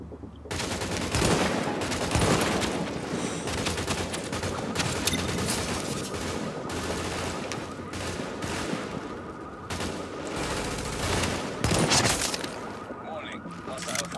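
Gunfire in the video game The Division, aimed at enemies' tanks, rattles almost without pause in dense rapid bursts that stay loud across the whole stretch.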